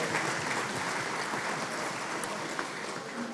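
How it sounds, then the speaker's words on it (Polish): Sustained applause from the audience at the sixth Polish cooperative congress, honouring guests and parliamentarians in the hall: a dense, even wash of many hands clapping steadily throughout, with no voices over it. "Proszę ogromne oklaski, że są z nami i zawsze o nas pamiętają"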